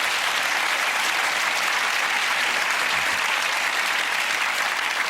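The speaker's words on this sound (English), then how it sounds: "So grand applause to both of you." A studio audience at a comedy panel show bursts into loud, continuous applause, broad and even from start to finish with no voices over it.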